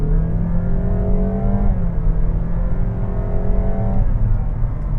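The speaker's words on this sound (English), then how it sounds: "you can hear by the sound even that it does mimic a bit of like a vehicle with conventional gears" A 1.5-litre Honda Vezel e:HEV hybrid accelerates with a steady, close engine drone that climbs in pitch, drops, then climbs again, much like stepped gear changes. No one speaks over it.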